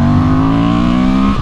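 Touring motorcycle pulling hard in second gear, a loud steady engine drone with strong low harmonics holding close and even throughout.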